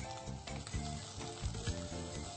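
Live shrimp sizzle and fry in a hot pan with garlic, a dense crackling hiss with occasional sharper pops and stirring scrapes, close and continuous throughout.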